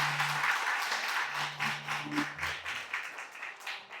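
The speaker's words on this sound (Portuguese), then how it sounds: "E se você entendeu isso, pode aplaudir o Senhor." A church congregation clapping for the Lord during a sermon, moderately loud applause that pulses unevenly and fades gradually over a few seconds, with a faint voice briefly underneath.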